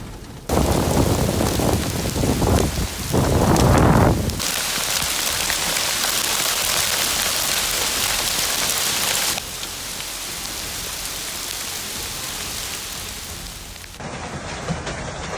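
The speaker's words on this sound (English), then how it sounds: "The continuous sound of hail striking down makes listeners shiver" Hail pounds down onto a lake surface in a dense, continuous hiss and patter that stays loud throughout, with heavier bursts of impacts near the start and no voices.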